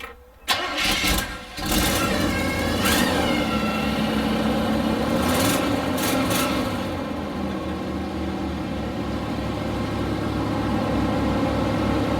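A 454 big-block V8 in a 1987 Winnebago cranks and fires, then settles into a loud, steady, rumbling idle close by, with a couple of brief revs partway through.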